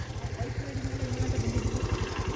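A motorcycle engine runs steadily nearby with a regular, throbbing low pulse, like a bike idling or rolling slowly beside a canal near a dam. Someone talks faintly under the engine.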